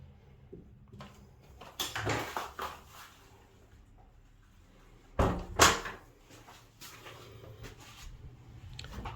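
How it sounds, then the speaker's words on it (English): A door in a gite is handled, with soft clunks and rattles around two seconds, then a sharper knock and latch click a few seconds later, all fairly quiet against a hushed room. "I'll take you through the other door though."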